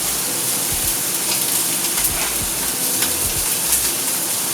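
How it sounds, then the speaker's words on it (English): Steak sizzling and frying in a hot pan, a loud continuous crackle and hiss with occasional spits and pops, close up and alone. "Okay, so the steak is on the pan"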